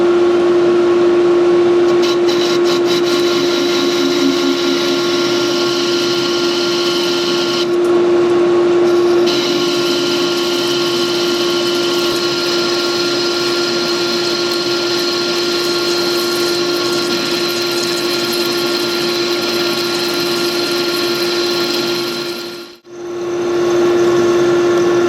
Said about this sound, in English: I've got the lathe running at